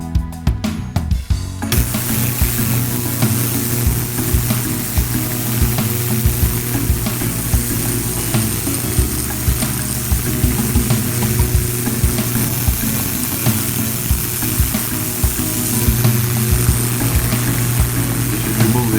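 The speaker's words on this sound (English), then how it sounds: "now we're going to use the ultrasonic cleaner to clean up these parts" An ultrasonic cleaner cleans scooter parts with a loud, steady buzzing hum and constant fizzing crackle, close up, starting after a brief clatter at the start.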